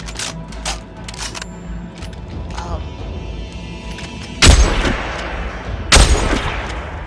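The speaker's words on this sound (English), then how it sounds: "that orchestra hit at the end with perhaps some French horn in it, it's very satisfying" In the video game Dead Space 3, gunshots ring out with an orchestral hit and possible French horn. Several quick sharp clicks and taps give way to two loud, broad blasts, each trailing off into a sustained tail.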